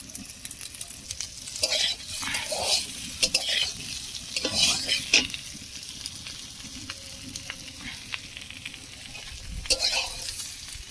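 Bitter gourd and potato pieces fry in a small amount of oil, a close crackling sizzle broken by repeated stirring scrapes and clinks.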